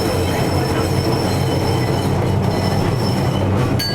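A restored retro tram riding along Kyiv's left bank, with a loud, continuous rolling rumble of wheels on rails and faint squeals, steady throughout with no talking.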